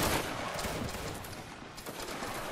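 A volley of muskets fired by reenactment soldiers on command, a dense crackling burst of near-simultaneous shots that rolls and fades over a couple of seconds, loud and close with no voices.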